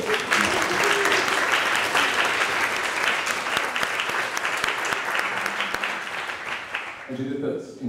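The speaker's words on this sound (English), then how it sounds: "Would you please show up shortly and you get your applause." Lecture audience applauding in a hall, sustained dense clapping that holds steady for several seconds before fading out, followed by a voice starting to speak.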